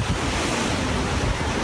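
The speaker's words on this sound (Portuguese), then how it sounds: "o vento está muito forte" Hurricane Irma's wind at 90 to 120 km/h, caught from inside an apartment building's garage, makes a loud, steady, unbroken roar with a rough rumbling low end and no voices.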